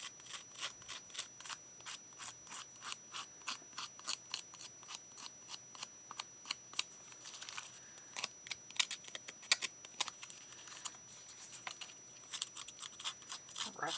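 Scissors snipping paper while trimming die-cut pieces for a handmade card, a rapid series of crisp, close cuts that keeps up a steady rhythm throughout, with no talking.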